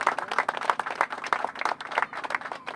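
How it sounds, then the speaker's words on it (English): A modest crowd at an outdoor Baltimore community event claps for its leaders, with distinct separate hand claps in an uneven, fairly sparse rhythm, moderately quiet and close. "You can just clap your hands and make some noise for the leadership."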